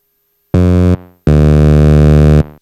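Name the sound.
guitar distortion pedal on Behringer TD3-MO synth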